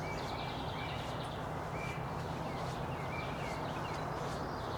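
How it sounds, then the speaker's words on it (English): Birds give faint, scattered chip calls from the trees at a spring birding festival, a few short notes spaced across a steady background hiss, with no talking. "Can hear a couple birds still chipping around"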